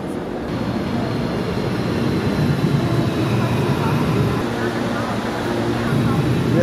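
CPTM commuter train arriving at Brás station in São Paulo, a steady loud rumble of wheels and motors filling the platform from start to end, with people talking over the noise.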